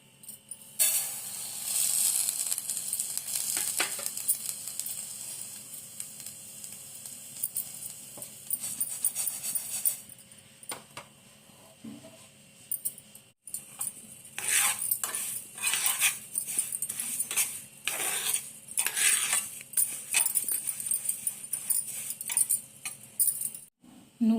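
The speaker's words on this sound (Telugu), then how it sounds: "ముందుగా నువ్వులు వేయించుకుందాం." Sesame seeds are dry roasted in a pan and stirred with a metal utensil, giving bursts of close scraping and clinking against the pan, with quieter pauses between them.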